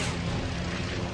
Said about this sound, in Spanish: Forzando los 1200 caballos del motor de su Wildcat, DeBlanc se acerca rápidamente